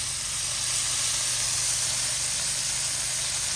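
Bacon-wrapped pork filet mignon sizzles on a grill, a steady loud hiss with a low hum beneath and no pauses.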